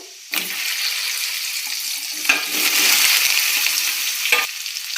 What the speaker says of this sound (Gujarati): લસણની કઢી બ્રાઉન થઈ ગઈ છે હવે આપણે થોડી ઘી નાખશું આપણે વઘારમાં વધુ રાખશું ફ્રેન્ડ તો આપણે વઘાર કરી લેશું